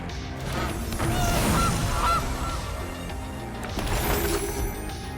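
A goose in a Magic: The Gathering game lets out several loud, close honks in the first half, then another burst of honking near the end over a busy game backdrop.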